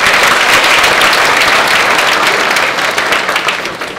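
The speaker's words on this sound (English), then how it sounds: "Let's give Mark a round of applause" An audience at a 2014 design conference applauds, a dense, loud burst of clapping that holds steady and then begins to fade toward the end.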